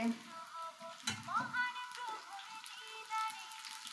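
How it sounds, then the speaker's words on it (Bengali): Dried chilies sizzle in hot oil alongside frying chickpeas, a soft, faint crackle with a few stirring clinks and a quiet background voice. "শুকনো মরিচও দিয়ে দিলাম, হালকা একটু ভাজা রাখা হয়েছে শুকনো মরিচ।"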